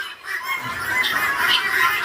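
A crowd of guinea fowl chicks calls continuously, with shrill overlapping peeps and squawks close by and no voices.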